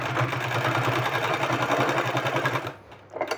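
A sewing machine runs a seam through folded square cloth with a close, steady whirring hum of fast needle strokes, stopping near the end and then giving a short final burst.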